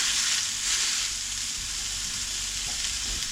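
Burger patties and sausage with mayonnaise fry on a hot griddle in a loud, dense, continuous sizzle that stays close and steady throughout, with no talking.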